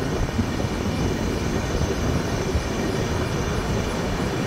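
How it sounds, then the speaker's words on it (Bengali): Tourist Express 15777 rolling slowly through jungle track, a steady broadband rumble of wheels and carriages running continuously and fairly close, with no talk. "একদমই স্লো মোশনে কিন্তু আমাদের ট্রেন যাচ্ছে।"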